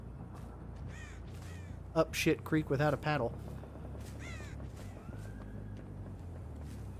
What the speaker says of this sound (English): I saw a crow go over there